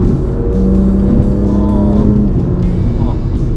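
A BMW F87 M2 Competition engine with stock exhaust hums steadily at close range with a rising drone through the middle, as voices talk over it.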